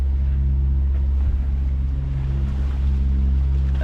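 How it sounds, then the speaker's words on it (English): A sailing catamaran motoring over a flat calm sea with almost no wind, its engine giving a steady loud low drone and rumble with light water wash, unchanging throughout. "So we continue motoring"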